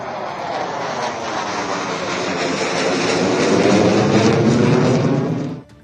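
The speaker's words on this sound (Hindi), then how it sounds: "इन तमाम विमानों ने इस एयर स्ट्रिप पर टच डाउन कर इंडियन एयरफोर्स के रण कौशल का लोहा मनवाया।" Indian Air Force military aircraft touch down on the Ganga Expressway airstrip with a loud, steady jet roar that builds slightly and then cuts off abruptly near the end.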